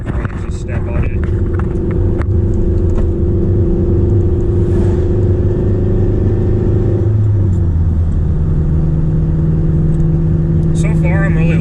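Acura TSX engine revving, a loud continuous rumble that climbs and then settles to a steadier, lower pitch, heard close from the cabin.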